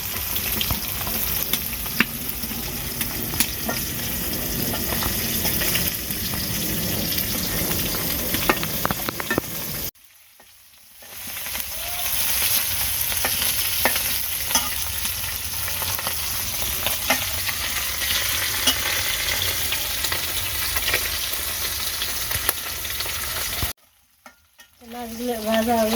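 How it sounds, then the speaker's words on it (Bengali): Small jatka fish, a young hilsa-like fish, sizzle steadily as they fry in a pan, with stirring scrapes over a continuous hiss that drops out briefly twice. "মাছগুলো ভাজা হয়ে গেছে"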